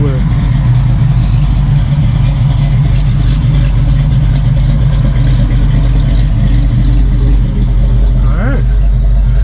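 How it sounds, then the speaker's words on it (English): Hot rod engines rumble loudly and continuously at a car-cruise gathering, a deep constant drone with slight rev swells, while voices sound faintly beneath the noise. "Hot rods everywhere."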